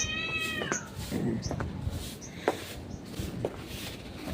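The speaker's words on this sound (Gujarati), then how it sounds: "આ બાજુ કંઈક મીંદડા બાજા લાગે છે." Cats meowing and yowling in a fight outdoors on a cold, windy day, with drawn-out wavering cries early on, then scattered shorter calls and thumps amid steady background noise and a faint voice.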